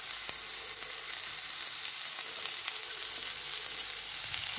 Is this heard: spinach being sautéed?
yes